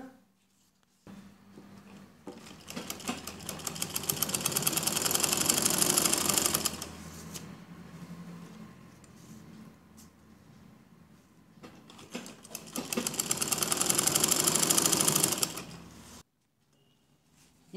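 A sewing machine stitches elastic onto palazzo pants in two long, fast-running bursts. A quieter pause with light handling noise separates them, and the second burst stops abruptly into silence.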